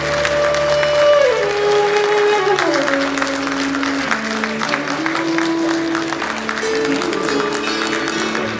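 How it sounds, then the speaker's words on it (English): Sustained audience applause fills a hall at the Jammu & Kashmir Real Estate Summit 2021, a dense steady wash of clapping with light crowd noise while a tonal musical line plays beneath. "Can we have a huge round of applause,"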